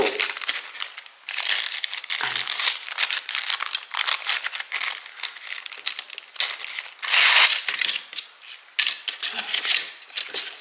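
Wooden parts of a treehouse craft kit being unboxed, with close crinkling, rustling packaging and light clicking handling noises in irregular bursts throughout.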